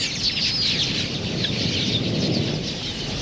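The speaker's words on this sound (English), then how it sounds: "Swirling flocks of quillias converge on the diminishing water holes to quench their thirst." A large flock of quelea birds gathers at a shrinking water hole in Africa's Okavango, filling the air with a dense, continuous mass of high twittering and chattering from countless birds at once.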